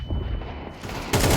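Automatic gunfire sprays in Counter-Strike 2, a loud, dense burst of rapid shots that cuts in near the end over a low game background.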